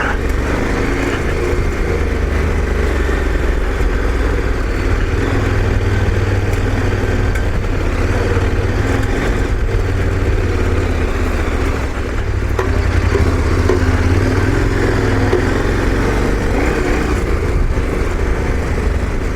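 A KTM 1090 Adventure R motorcycle engine drones steadily and fairly loud on a desert trail ride near Alamo Lake, a continuous low throb with slight surges.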